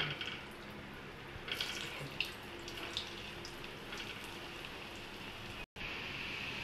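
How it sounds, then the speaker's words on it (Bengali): Fake eggs frying in oil hiss with a steady, rain-like crackle and occasional louder pops, close and continuous, with a brief dropout near the end. "এতে আর যেগুলো আছে ভেজে দেবো"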